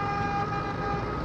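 A sustained bus horn blares loudly and steadily at a general bus stand in Pakistan, close by, with engine rumble underneath.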